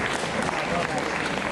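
Audience at a Montreal comic convention applauding steadily, a dense wash of clapping that stays at an even level throughout.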